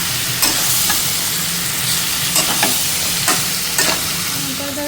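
Meat and onion are sautéed in a pan, frying loudly and steadily with a few crisp scrapes of a spatula stirring the mix.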